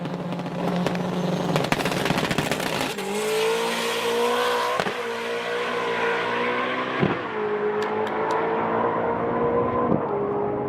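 Flat-plane-crank race car screaming at high revs, loud and close, with sharp spark-cut pops on each upshift followed by the engine climbing again; slipper clutch chatter under the shifts.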